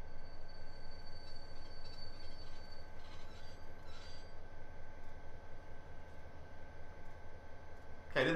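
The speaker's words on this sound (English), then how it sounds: "As I get closer, I will move the train." A train rolls slowly along the rails, a steady low rumble with faint wheel hum and a few high tonal squeals, ending in a brief louder burst near the end.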